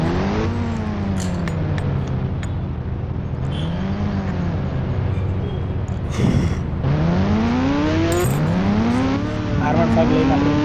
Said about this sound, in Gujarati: R15 લઈને આપણે ફરવા નીકળી ગયા છીએ.